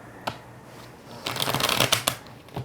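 Tarot cards shuffled vigorously by hand: a single flick, then a dense burst of riffling and rapid papery slaps, close to the ear with no talking.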